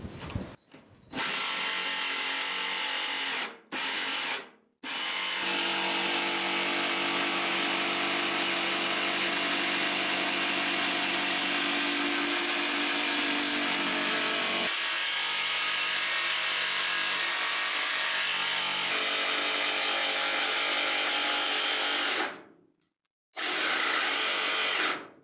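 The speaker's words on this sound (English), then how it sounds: "So I've cut the initial shape out now." A power tool, likely a jigsaw run along a jig, cuts a shape out of a reclaimed wooden door in a stone house under renovation, running loud and steady for most of the stretch with a few brief pauses.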